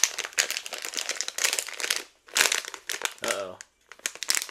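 Crinkling and rustling of Loot Crate box packaging being opened, steady crackly handling sounds close to the mic, with brief pauses and a short spoken exclamation.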